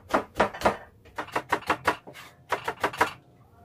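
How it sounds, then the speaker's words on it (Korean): A knife mincing pressed garlic cloves on a cutting board, heard as close, crisp rapid chops in three quick bursts of four or five strokes each, with short pauses between bursts. "이 마늘을 잘게 다져주시고요"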